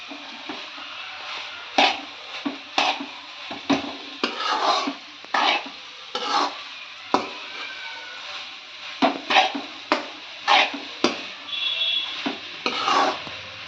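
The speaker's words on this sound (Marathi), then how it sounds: "त्यात आता वरून मी थोडासा शेंगदाण्याचा कूट घालून घेणार आहे आणि मिक्स करून घेणार आहे" A fenugreek leaf stir-fry with crushed peanuts mixed in a pan, with repeated sharp knocks and scrapes of the spoon against the pan in uneven bursts over faint sizzling, close and fairly quiet, no voices.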